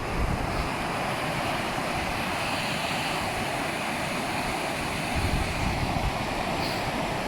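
Strong wind gusting at the seaside, a steady, loud broadband roar with heavy low buffeting against the microphone and surf-like hiss throughout, no pauses and no voices.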